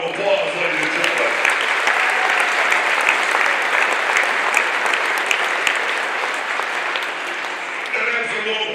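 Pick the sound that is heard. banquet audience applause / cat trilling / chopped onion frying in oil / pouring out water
banquet audience applause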